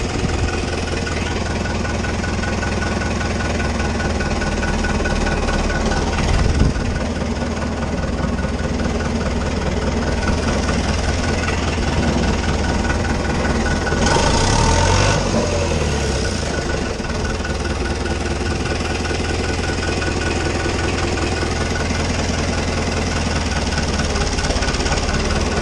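An Agrifull 65 tractor's engine runs steadily while driving, a loud continuous diesel drone with a knocking rhythm throughout, a brief clunk midway, no voices.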